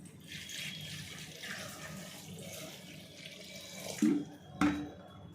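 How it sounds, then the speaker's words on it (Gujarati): Water is poured into a vessel over peeled sweet lime segments for homemade juice. A soft steady trickle runs close by, then two brief louder splashes near the end. "અંદર આપણે આ રીતે પાણી નાખી દેવાનું"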